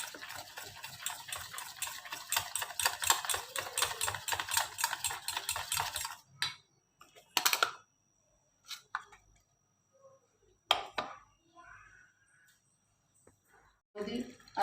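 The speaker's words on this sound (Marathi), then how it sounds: "हे सर्व मिश्रण फेटून घेऊया." Kadhi batter of curd, gram flour and spices being whisked in a bowl: about six seconds of rapid, steady scraping whisk strokes, then sparse scattered knocks and clinks with quiet gaps.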